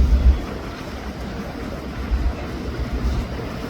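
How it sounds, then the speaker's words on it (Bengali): A very large ship passes near a vessel on the water at a ferry crossing, heard as a deep, continuous low rumble mixed with wind buffeting and wash, with no talking. "এই যে জাহাজ এটা আমাদের খুব বড় জাহাজ এখান দিয়ে গেল"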